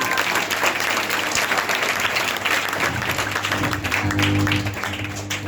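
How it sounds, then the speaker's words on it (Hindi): Steady crowd applause at a science demonstration where a woman lights a coconut on fire without a matchstick, dense clapping held at an even level throughout, with a low hum underneath. "तालियां।"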